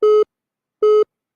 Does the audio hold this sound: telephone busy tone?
yes